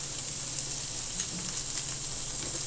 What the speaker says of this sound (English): you hear that sizzling sound.